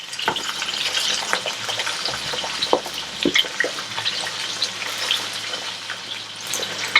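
Small onions and garlic fry in oil for a mutton masala, making a steady crackling sizzle close by with scattered sharp pops and spatters and no voices.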